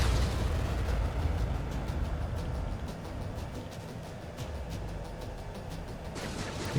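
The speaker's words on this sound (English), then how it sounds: "Keep firing those missiles until you blow them to pieces." Missile explosions in the jet combat game Ace Combat 7 rumble as a dense, continuous roar of distant booms, with a steady low-end blast texture that dips slightly midway and swells again at the end.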